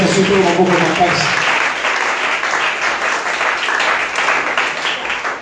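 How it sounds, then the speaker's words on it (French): A church congregation applauds the Lord, with loud, sustained clapping and a few voices calling out at the start. The clapping then settles into a steady wash for several seconds. "Acclame encore le Seigneur."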